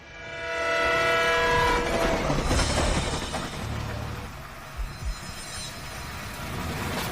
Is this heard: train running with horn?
yes